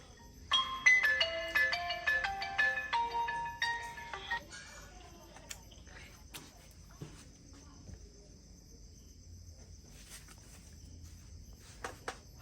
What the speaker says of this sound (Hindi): फोन आ गेले।